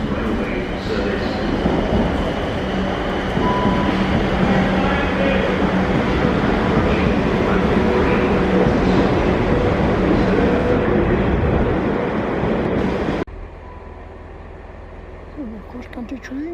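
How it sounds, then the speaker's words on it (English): A CrossCountry train at Basingstoke railway station rumbles past close by, a loud sustained roar of wheels and engine with rhythmic rail clatter that cuts off sharply near the end, leaving quieter station ambience. "Cross-country train."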